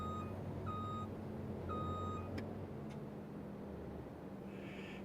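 Reversing beeps from a truck backing up in Farming Simulator 25, a steady series of evenly spaced electronic tones over a continuous low engine rumble, with a short clank partway through.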